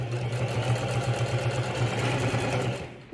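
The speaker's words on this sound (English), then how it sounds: "Now I'm going to start to sew" A sewing machine running steadily as it sews a back stitch on a fabric toiletry pouch, a continuous close, even mechanical whir with a rapid regular needle rhythm, then a brief stop at the end.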